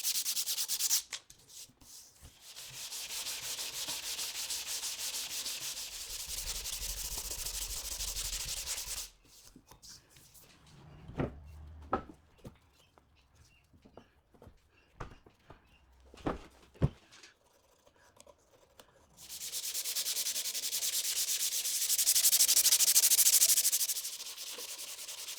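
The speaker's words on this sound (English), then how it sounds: "I'm using 120 grit sandpaper." Hand sanding wood with 120 grit sandpaper on scrap wood for a ship's wheel: long steady rasping strokes, close and loud, broken by a quieter stretch of knocks and handling before the scratchy rubbing resumes.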